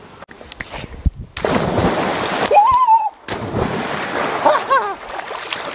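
Water splashes and sloshes as a hiker wades into a clear mountain lake for a swim, close broadband splashing with brief pauses and a faint bird call in between.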